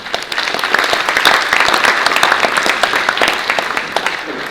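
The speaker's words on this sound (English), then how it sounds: "One more quick round of applause for President Yan, Sarah, and Mark." Steady audience applause at an elected officials' reception, dense and fairly close, with scattered individual claps standing out and little speech over it.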